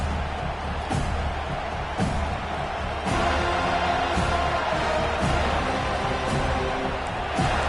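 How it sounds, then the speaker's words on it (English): Steady roar of a stadium crowd in College Football 25 at a Florida State versus Alabama game, a dense continuous wash of cheering with periodic soft thumps. "This crowd bringing the energy and noise early."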